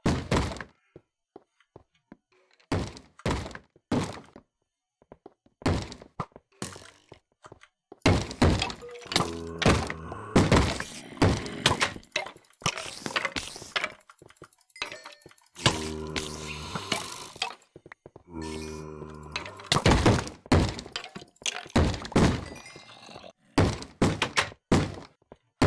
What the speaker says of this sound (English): The sound of zombies banging